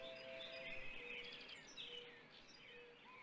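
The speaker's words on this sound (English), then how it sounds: "Can you still hear the birds in the back?" Birds chirp and tweet in the background, a steady scatter of short, fairly faint calls over soft ambient hiss, with no talking.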